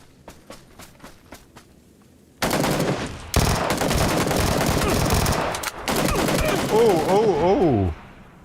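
Gunfire: shots crack out in rapid bursts that sound like automatic weapon fire, loud and close, after a quieter stretch of sharp taps. A strained voice cries out near the end.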